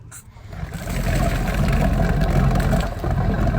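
A ski boat's inboard engine runs steadily at a low, throaty idle on a water hookup, a constant rumbling drone with no talking.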